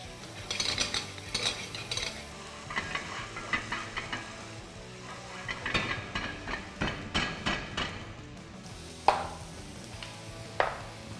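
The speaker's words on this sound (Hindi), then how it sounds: "प्याज और गार्लिक के साथ ही अगर ऑरिगेनो को भूनोगे, मजा आएगा" Onion, garlic and oregano frying in oil in a pan for masala macaroni, a continuous sizzle under repeated scraping and stirring strokes, with two sharper knocks near the end.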